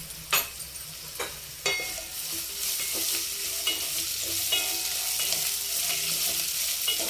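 Onions and garlic sizzle in hot oil in a pan for a tempering, with loud scraping stirs and clicks of a spoon against the pan over a steady fry.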